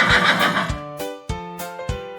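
A horse whinnies loudly and close by, a long shrill neigh breaking into a series of shuddering, stepped pulses that fade out.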